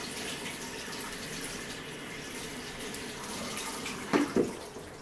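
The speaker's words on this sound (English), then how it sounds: "Let me put it under the cold water again." Cold tap water running over a vinyl record melted into a bowl, a steady close rushing stream with a couple of brief splashy knocks near the end.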